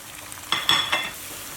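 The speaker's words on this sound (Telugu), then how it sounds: "ఇది చక్కగా ఫ్రై అవుతూ ఉంటుంది కదా" Cashew and almond paste fries in a pan for chicken korma, a brief burst of sizzling and stirring that swells for about half a second and then fades, close and moderately loud with no voices.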